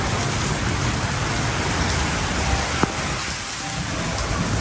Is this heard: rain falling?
yes